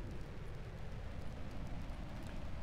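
Procedurally synthesized rain from a Csound-driven weather system in Unity, a steady dense hiss of falling drops with a heavy low rumble underneath, continuous and fairly faint.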